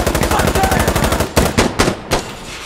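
Automatic rifle fire in the tactical shooter Insurgency Sandstorm: a long rapid burst of close, loud shots in steady rhythm, then a few separate heavier bursts trailing off.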